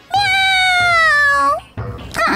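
A cartoon cat lets out one loud, drawn-out, high whining meow, followed by a shorter, rougher cry.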